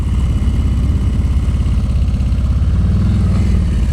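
A motorcycle engine rumbles loud and steady during slow-speed riding practice, a continuous low throbbing with no pauses.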